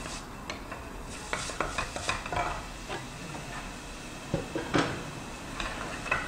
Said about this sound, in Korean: 표고도 한 1분 남짓 볶아주세요